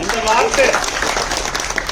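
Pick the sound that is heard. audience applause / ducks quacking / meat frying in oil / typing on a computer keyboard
audience applause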